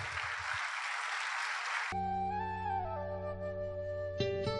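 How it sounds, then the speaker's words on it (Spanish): A congregation at a church service applauds for about two seconds, a dense wash of clapping that cuts off abruptly as sustained music with steady tones takes over. "Démosle al Señor un fuerte aplauso."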